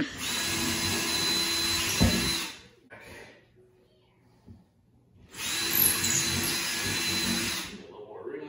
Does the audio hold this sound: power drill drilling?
yes